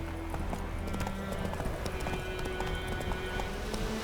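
Horse hooves clip-clopping at a steady galloping rhythm in The Witcher 3 video game, continuous and close throughout, with a faint whinny and game ambience underneath.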